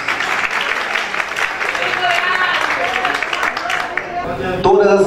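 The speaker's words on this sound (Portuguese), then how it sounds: "Cadê os aplausos?" Applause from the audience at the Miss Simpatia Salvador 2021 award presentation, a steady dense wash of clapping lasting several seconds under voices and cheering.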